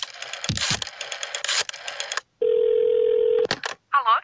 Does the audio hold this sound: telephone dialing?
yes